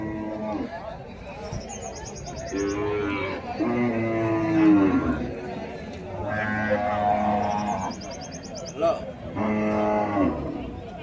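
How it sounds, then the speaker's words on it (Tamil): Native bulls at the Uthangarai cattle market moo repeatedly, several long lowing calls rising over a busy crowd with people talking throughout. "எல்லாம் நாட்டு காளைங்க பாருங்கள்."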